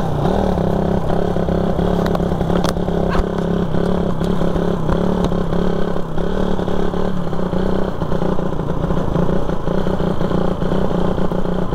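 A motorcycle engine runs steadily with a slipping, worn clutch lining, giving a loud rough idle with a rattling, clattering undertone and occasional sharp ticks.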